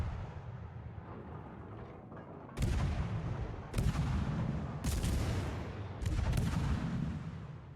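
Naval cruiser guns in World of Warships, aboard the classic US cruiser Omaha, fire in four sharp booming salvos spaced a second or so apart, each leaving a rolling rumble over a steady engine drone.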